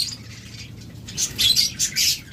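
A pair of lovebirds at a bird farm gives rapid, close, high chirps that grow louder and busier toward the end.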